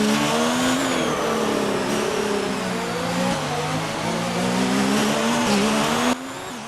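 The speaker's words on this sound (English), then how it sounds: "just have a listen to the engine" A race car engine drones loud and close at Abu Dhabi in a racing video game, a continuous high whine whose pitch rises and dips through gear changes and corners, ending with a sudden drop.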